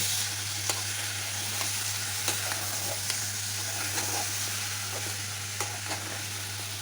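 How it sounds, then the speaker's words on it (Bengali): Rice and lentils fry with spices in a pan for khichuri while being stirred, giving a steady close sizzle with repeated scraping clicks of the spoon throughout. "তারপর আমি আবারও একটু ভালোভাবে নেড়ে নিব।"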